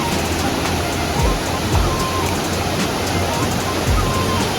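Steady roaring rush of Ravana Falls in Ella, Sri Lanka, a dense constant hiss heard close up with occasional low thumps.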